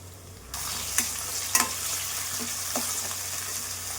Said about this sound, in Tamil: நல்லா இஞ்சி பச்சை வாசனை போகிற அளவுக்கு நல்லா கொஞ்சம் வதக்கிக்கலாம்